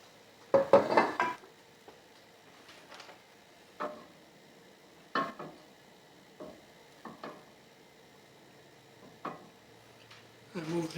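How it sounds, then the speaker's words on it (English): Olive oil being swirled around in a pan: sparse clunks and scrapes of the pan shifting on the stovetop, spaced irregularly over a quiet background. "I move the oil around in the pan"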